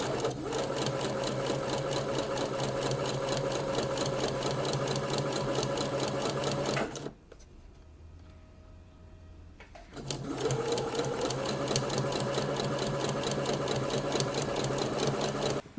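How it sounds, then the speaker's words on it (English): A sewing machine stitching a blouse sleeve, a steady close whirring run with fast rhythmic needle clatter, a pause of about three seconds, then a second equally steady run, with no talk. "So now I'm going to sew it in on the other side as well."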